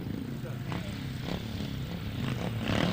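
Grasstrack motorcycles rev together at the start line of a 2003 race meeting, a loud massed engine roar that swells toward the end, heard under a commentator's voice.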